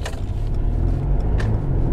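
Cabin sound from a 2017 Mercedes C300 AMG sedan under hard braking, a loud steady rumble of road and engine noise with faint mechanical clicks.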